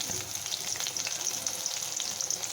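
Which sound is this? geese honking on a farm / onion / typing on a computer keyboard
onion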